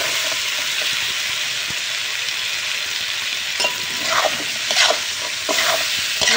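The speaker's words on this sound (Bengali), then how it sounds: "এবার দিয়ে দেবো ডুমুর আর আলু একসাথেই।" Figs and potatoes go into fried masala in a pan, setting off a steady loud sizzle with scraping stirs that grow busier toward the end; no one speaks.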